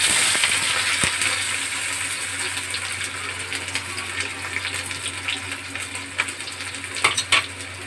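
Chopped onions sizzle steadily in hot oil with cumin and mustard seeds in a home kitchen pan, a loud continuous fry with occasional stirring scrapes and clinks near the end.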